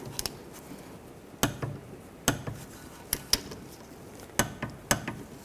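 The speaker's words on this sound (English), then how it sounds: "We'll torque these bolts to 25 foot-pounds" Sharp ratcheting clicks come in short irregular bursts as a torque wrench tightens bolts to 25 foot-pounds on a rear wheel bearing and hub assembly of a 2004-2010 Toyota Sienna, close and fairly quiet.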